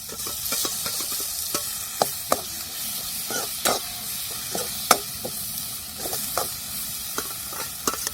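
Dal and ground masala are sautéed in a pan for amti, with a soft steady frying hiss and regular spoon taps and scrapes against the pan, close by and with no talking.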